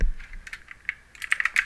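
Fingers tapping keys on a computer keyboard while scripting for a Roblox game, a quick irregular patter of light clicks, sparse at first and then a faster burst toward the end, heard close up.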